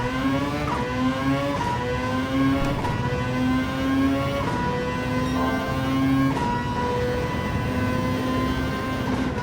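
A Mazda LM55 prototype race car engine in Gran Turismo 7 revs hard and steadily, its loud droning whine rising and shifting through gears, with brief upshift breaks across the lap.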